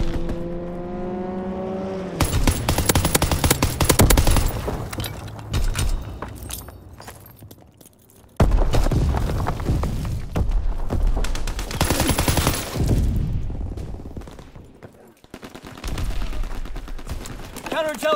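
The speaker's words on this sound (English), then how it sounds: "Enemy strafing run inbound" Dense bursts of automatic gunfire from an enemy strafing run in a video game, loud and sustained in long rattling volleys broken by short pauses, with engine-like roar mixed in.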